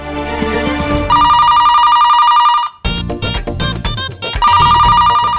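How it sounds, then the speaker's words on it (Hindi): A telephone rings loudly with a repeating electronic ringtone, briefly interrupted by a clattering burst before the ringing resumes. "फोन क्यों नहीं उठाता कोई?"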